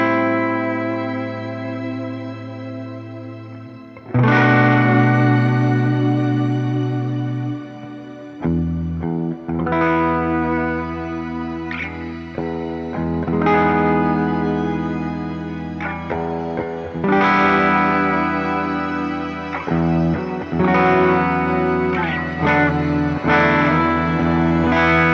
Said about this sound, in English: Here's the Nebula Reverb at default settings.